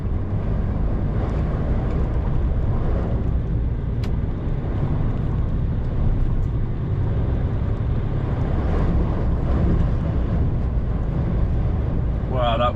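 Strong gusting wind during Storm Eowyn, over 40 mph, roars steadily and loudly across the microphone throughout, a dense continuous rumble with a brief sharp click near the middle.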